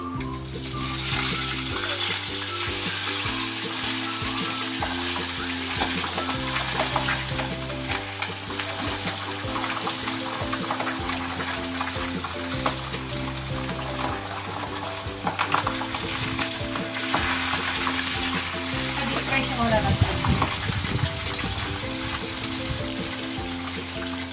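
Breakfast, including chicken, fries and sizzles steadily in a pan for the whole stretch, loud and continuous, with stirring scrapes mixed in over a backing music track.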